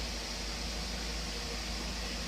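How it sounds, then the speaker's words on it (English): An electric fan runs steadily on a hot day, giving a constant, even whooshing hum with no breaks, fairly quiet and alone. "Sorry the fan's going"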